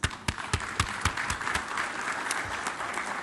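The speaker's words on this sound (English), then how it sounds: "join me in giving a round of applause for this gentleman" Audience at an Islamic Development Bank Group private sector forum applauds, a dense wash of clapping with a few sharp louder claps standing out, steady and close throughout with no talk.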